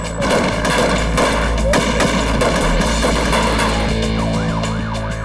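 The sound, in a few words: gunfire as armed kidnappers open fire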